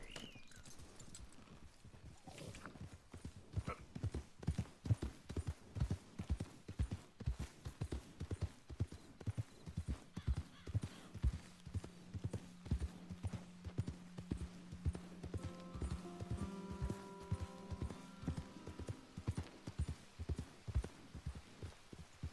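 Horse hooves clip-clop in a steady, even rhythm close by in the video game Red Dead Redemption 2, continuing throughout, with a brief tonal sound rising partway and a soft whinny near the end.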